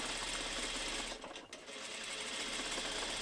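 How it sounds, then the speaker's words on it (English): A sewing machine runs at its longest stitch length, stitching rows of gathering along the sleeves of a Regency-style dress. The motor whirs steadily and close, dips briefly in the middle, then carries on with no talk over it. "For gathering we go to our longest stitch length, and then I'm doing I think 2 rows of gathering"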